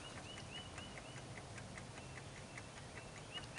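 Dashboard clock ticking inside a 50-year-old Ford Country Squire, a faint, even run of quick mechanical ticks repeating steadily over a low background rumble.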